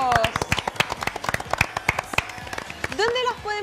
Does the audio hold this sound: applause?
yes